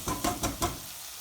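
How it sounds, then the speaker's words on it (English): Spices frying in oil for a hot chicken aloo curry, a few short sizzling and stirring bursts close by over a low hiss that fades toward the end. "we've been cooking the spice, you can see the oil has risen to the top"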